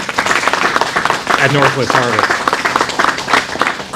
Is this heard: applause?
yes